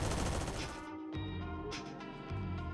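Colt MARS PDW gunfire in the video game Phantom Forces, a fast automatic burst that briefly cuts out, then resumes in shorter bursts, loud and close with no voices over it.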